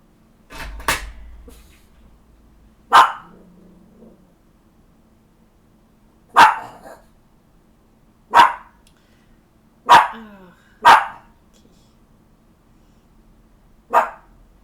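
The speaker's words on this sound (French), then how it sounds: "j'ai un chien dehors qui aboie et Gizmo aboie." A dog barks outdoors in separate loud single barks and short doubles, spaced a few seconds apart with quiet gaps between, fairly near.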